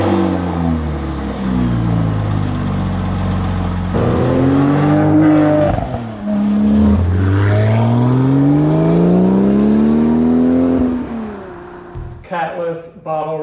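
A Porsche 997.1 Turbo with a custom catless exhaust, bottle resonators, anti-drone tubes and slash-cut tips revs loudly and close, sweeping up and down through several blips before cutting off sharply near the end.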